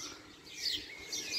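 Parrots at a parrot park give faint, thin, high chirping calls, a few brief bursts over a soft, hollow background hum, distant and quiet.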